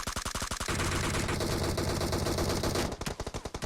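Sustained automatic gunfire in a bug-mode shooter video game, a rapid burst of loud close shots that blurs into a continuous roar before breaking back into separate cracks at the end.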